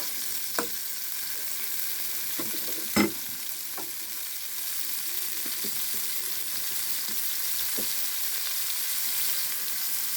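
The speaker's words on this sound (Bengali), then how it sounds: "গোটা জিরে ফোড়ন দিয়ে মাছ দিচ্ছি, চিংড়ি মাছ।" Prawns frying in hot oil with whole cumin tempering, a soft steady sizzle with occasional stirring clinks and taps, no voices.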